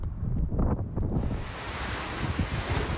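Strong typhoon wind roars steadily in a coastal town in the Philippines, a dense, continuous rush buffeting the microphone with low rumbling gusts and no voices.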